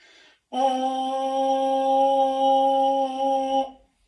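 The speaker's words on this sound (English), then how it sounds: "If I want to make a higher buzzing sound through my mouthpiece" A steady, high buzzing tone from a trombone mouthpiece with a firmer embouchure, held for about three seconds after a brief breath, close and fairly loud.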